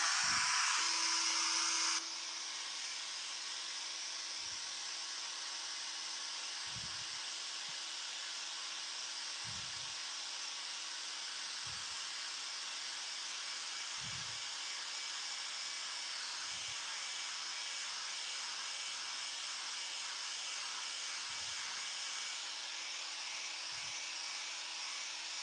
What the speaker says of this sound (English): just hitting it with the world's most expensive hairdryer again